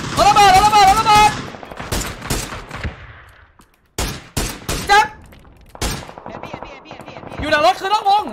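Sharp, loud bursts of automatic gunfire crack out in separate volleys during a PUBG tournament match, mixed with excited shouting from players.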